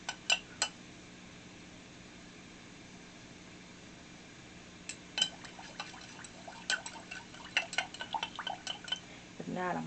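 A utensil scrapes and clinks against a pot while melting lavender body lotion is stirred, with scattered faint taps in two short bursts over a quiet hiss and a soft slosh near the end.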